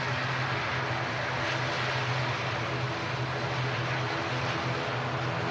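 An ATR turboprop airliner at Manchester Airport, a steady broadband engine roar with a low hum, heard from a distance without any talk.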